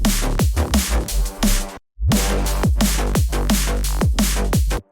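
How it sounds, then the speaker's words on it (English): A sub bass wobble in a dancefloor drum and bass track throbs loud and heavy under punchy drums, cutting out briefly for a short gap before the driving pattern resumes to the end. "I found this sub wobble"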